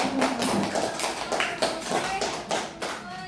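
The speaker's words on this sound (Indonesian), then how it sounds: "Tepuk tangan dulu ya. Mana nih tepuk tangannya?" Classroom students clapping in a loose, uneven burst of fairly close hand claps, with voices faintly mixed in.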